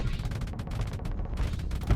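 A torpedo strikes an enemy ship in the space combat game Starsector, heard as a burst of dense, rumbling explosive impacts over a couple of seconds, ending in a heavier low thump.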